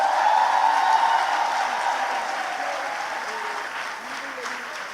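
Broad, continuous applause from a seminar audience at a women's day event, steady and fairly loud, slowly easing off with faint voices underneath.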